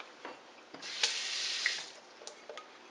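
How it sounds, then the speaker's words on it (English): Water runs from a tap into a roast pan for beef roast gravy, a steady hissing pour rising in the middle and then easing off, fairly close, with no talk over it. "Put a little bit more water in it."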